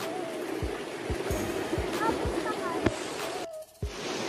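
A clear countryside stream rushes over rocks in a steady broadband wash, heard close, while a voice speaks over it and footsteps or knocks thud occasionally.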